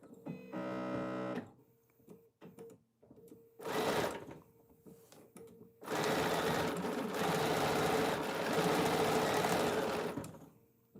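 A sewing machine stitches a quarter-inch quilt seam in quick bursts. There is a short run, then brief stops, then a longer steady whirring run close up, with no talking.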